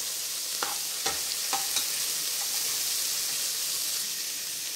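Onions, carrot and spices sauté in a pan with a bright, continuous sizzle, broken early on by a few sharp scrapes and taps of a spoon, then settling into a smooth frying hiss with no talking.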